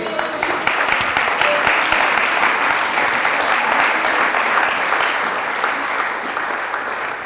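A church congregation applauds during a seminar, a dense, steady wash of clapping filling the room for several seconds, loud and sustained without a break.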